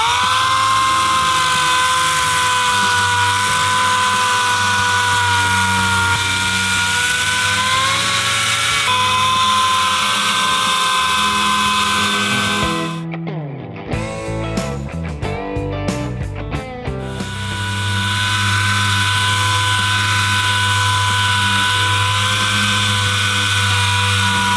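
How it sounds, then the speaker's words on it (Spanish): Orbital sander working over a body filler patch on a car, a steady loud whirring drone with tonal hum, briefly interrupted midway by clattering handling noises before the continuous sanding resumes. "Después del lijado con orbital que hizo Belén para sacar los bordes"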